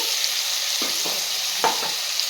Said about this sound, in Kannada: ಟೊಮೆಟೊ ಪೇಸ್ಟ್ ಹಸಿ ವಾಸನೆ ಹೋಗೋ ತನಕ ನಾವು ನೀಟಾಗಿ ಮಿಕ್ಸ್ ಮಾಡಿಕೊಂಡು ಫ್ರೈ ಮಾಡ್ಕೊಬೇಕಾಗುತ್ತೆ